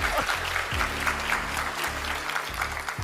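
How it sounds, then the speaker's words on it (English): Audience applause fills the clip, a steady, dense wash of many hands clapping at moderate loudness throughout, with a low hum underneath and no speech over it. "And oh, they're clapping."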